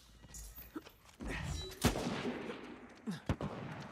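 Blind-fire gunshots in Uncharted 4 crack out in a few sharp, scattered bursts, fairly faint and irregular, with short pauses between shots.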